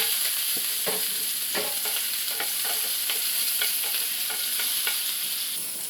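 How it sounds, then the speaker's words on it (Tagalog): Garlic and onion fry in a small amount of hot oil for ginisang sayote with sardines. A constant sizzle runs under repeated close scrapes and taps of a spoon stirring in the pan. "Bawang at sibuyas. Sabay-sabay na natin halo."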